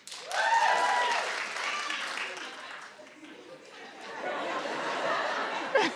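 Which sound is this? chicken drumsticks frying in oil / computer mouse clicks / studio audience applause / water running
studio audience applause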